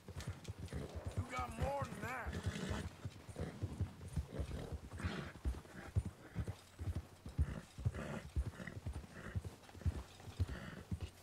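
Steady, rhythmic clip-clop of horse hooves in Red Dead Redemption 2 continues throughout, with a brief whinny near the start and a voice talking over it.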